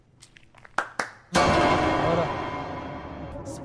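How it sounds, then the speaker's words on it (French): In the video game The Renovator: Origins, two sharp claps lead into a sudden burst of loud applause that fades slowly, with a brief spoken word just before it. "Il y avait des applaudissements, des claps."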